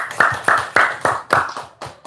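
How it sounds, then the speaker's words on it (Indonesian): Slow, rhythmic hand clapping at a seminar, about eight sharp claps spaced roughly a quarter second apart, close and fairly loud with no talk over them. "Tepuk tangan dulu dong."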